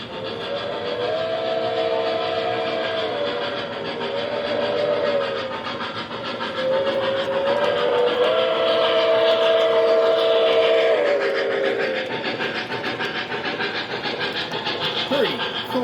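A model train whistle on a garden railway blows several long tonal blasts as the locomotive slows, sustained clear notes over a steady rumble of rolling wheels, loud and close.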